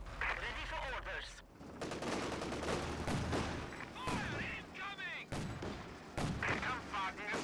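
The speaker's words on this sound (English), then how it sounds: "Artillery going in here." Artillery and gunfire boom repeatedly in a strategy war game, heavy blasts and rattling shots mixed with whistling shells and music, while a voice talks over them.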